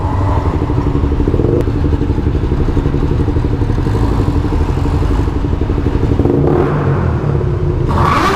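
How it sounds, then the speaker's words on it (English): A motorcycle engine runs loudly and steadily up close, with a constant throbbing rumble and a slight rise in pitch near the end, and no talk. "I'm just waiting for that rev from Badger."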